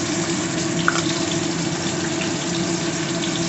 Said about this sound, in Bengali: এবার জল দিয়ে ঘুটবো